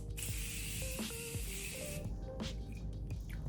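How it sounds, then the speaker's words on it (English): A burst of Morphe Continuous Setting Mist sprayed over a face, a soft continuous hiss lasting about two seconds, then faint clicks and rustles that fade out. "I'm just going to do a light kind of spray over with this"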